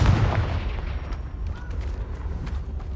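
Explosive blast of the Confringo spell hitting rocks in Hogwarts Legacy, a loud opening boom that rumbles and crackles for a moment, then fades into scattered smaller pops and low debris noise.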